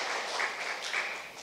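A lecture audience of young people applauds briefly, a dense, even patter of many hands clapping in a hall, heard alone.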